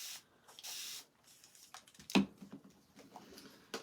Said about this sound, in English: I'm going to spray it because I'll clean it off later